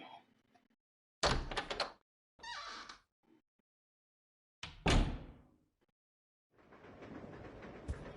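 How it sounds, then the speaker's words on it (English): A door on a train in Resident Evil 0 is unlocked with the Conductor's key and opened: a few sharp clunks and metallic thumps separated by silence, followed by a low rumbling that runs to the end. "head up to this door on the left and we'll use the key we got, the Conductor's key"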